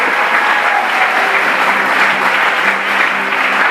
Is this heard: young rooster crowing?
no